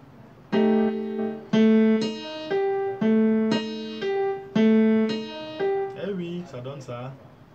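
A right-hand blues line is played on piano, a string of clear single notes and short repeated phrases in a lilting rhythm, close and alone, ending in a quicker cluster of notes.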